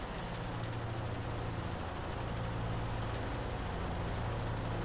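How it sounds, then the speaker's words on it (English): A P-38 Lightning in the Flying Iron Simulations flight sim drones with a steady low engine rumble and a rattling hum, continuous and unchanging throughout with no voices. "You can hear the rattling and everything of the engine."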